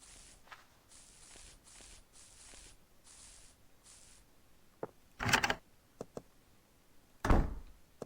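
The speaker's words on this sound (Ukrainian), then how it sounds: "Закриваємо відповідно двері" A door closes in a farming video game, heard as two dull, separate thuds after a stretch of quiet, faint clicks and rustles.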